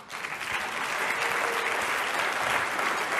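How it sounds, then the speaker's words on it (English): An audience applauds after a Q and A session, a dense, steady clapping that swells quickly and holds loud for several seconds. "Another big round of applause for Candace Owens."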